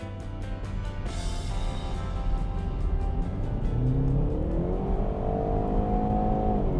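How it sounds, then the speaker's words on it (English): A Jaguar E-Pace four-cylinder engine revs up steadily, its pitch climbing and holding high, with a continuous droning whir and no speech. "In high revs, the four-cylinder engine doesn't sound like you'd expect from a Jaguar."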